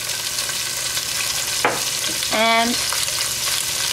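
Onions, carrots and thyme fry in a pan with salt and pepper, a loud, dense, continuous sizzle close up, while a voice briefly speaks over it.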